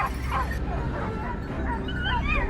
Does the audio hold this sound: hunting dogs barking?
yes